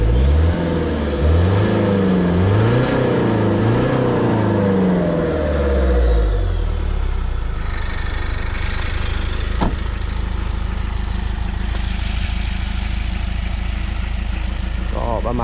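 A Toyota Mighty X pickup with a 4D56 turbo diesel revs up and down in rising and falling sweeps for about six seconds, then settles into a steady, rough idle close by.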